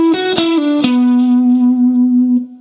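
A distorted electric guitar plays a short phrase from a guitar solo, a few quick picked notes resolving onto a long sustained, gently bent and vibrato-laden note that rings loud and alone before cutting off.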